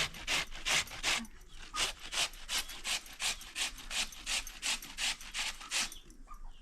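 Ash gourd flesh is grated by hand in steady back-and-forth strokes, each a close, rasping scrape repeating at an even rhythm of roughly three per second, with no talking over it.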